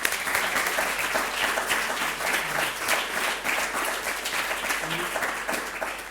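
An audience at a researchers' night event applauds the technical crew, a steady, fairly distant round of clapping lasting several seconds with a faint murmur of voices underneath.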